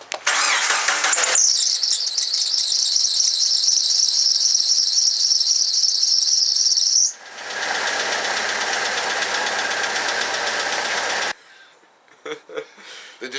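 A Jeep Wrangler engine, freshly fitted with a repaired distributor, opens with a loud high squeal. It then settles into a rough, steady running drone before shutting off, leaving a few scattered clunks.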